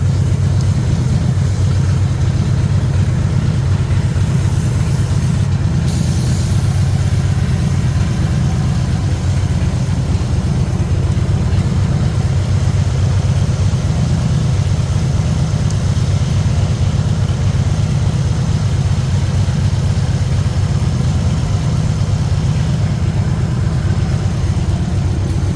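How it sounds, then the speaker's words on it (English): A car engine idles steadily with the bonnet open during an engine-bay cleaning, a loud, even low rumble that holds for the whole stretch with no revving. "you have your engine on"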